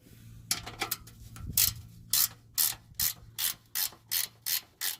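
A hand ratchet works loose fasteners beneath a Kia Sorento, a close, crisp run of clicking bursts that settles into an even, regular rhythm of about nine strokes, with no talk.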